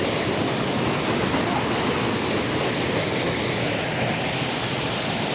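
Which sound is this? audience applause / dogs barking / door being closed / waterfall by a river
waterfall by a river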